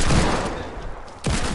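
Heavy video game hand cannon gunfire, dense and loud, with a booming shot at the start and another sharp blast near the end over continuous rumbling.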